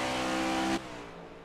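A NASCAR race car in a racing video game roars at high revs near the Mexico 120 finish line, then the engine note drops sharply as it passes, all within a brief burst.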